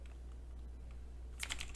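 Keys on a computer keyboard are tapped during JavaScript coding work, a brief quick burst of close clicks near the end over a steady low electrical hum.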